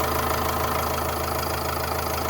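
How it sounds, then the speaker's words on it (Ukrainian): A 2010 Opel Vivaro van's 2.5-litre 150 hp engine idles steadily at close range, a constant low rumble with a faint mechanical knock and no voices. "тут одразу чути, як працює мотор"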